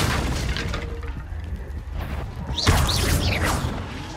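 Confringo fire spell from Hogwarts Legacy: swishing casts lead into a booming fiery blast near the end, with crackling effects trailing after it.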